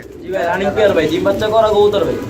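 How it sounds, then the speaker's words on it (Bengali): Pakistani Giribaz pigeons coo in soft, rolling, close-up calls, with someone talking over them. "গিরিবাস পাকিস্তানি কবুতর"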